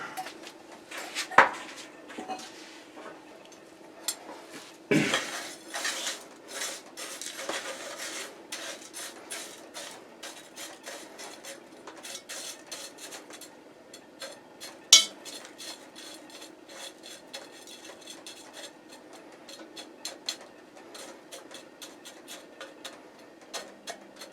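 Harvested sea salt being stirred and scraped in a pan, a long run of dense gritty rasping and small clinking scrapes, close and fairly quiet, with a few louder knocks along the way and no talk.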